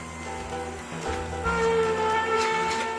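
A Ninja Cold Press Juicer Pro runs steadily while extracting juice, a low mechanical hum with layered tonal whine that grows slightly louder partway through, close and continuous with no talk.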